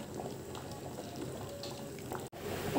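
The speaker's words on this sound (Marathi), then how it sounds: "आता आपण जिलेबीला छान शिजू देऊया।" Spicy halwai-style tikhat jalebi bubbling steadily in a pot, a continuous close, even boil with dense liquid burbling and no voices.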